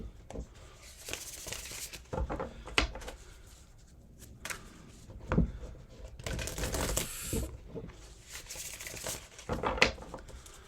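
Tarot cards being shuffled by hand, a run of soft riffling and patting bursts with brief pauses between them, close and fairly quiet, with no voices.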